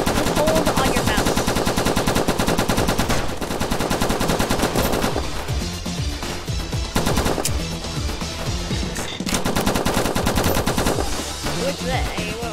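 Rapid machine gun fire in the Roblox video game, dense and loud bursts of automatic shots that rattle on almost continuously with a couple of short breaks, while players talk faintly underneath.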